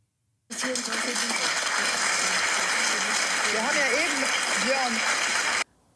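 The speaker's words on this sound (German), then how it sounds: "Ja, Applaus." Loud, dense applause from an ARD television audience fills the stretch as a steady roaring wash, with voices speaking over it.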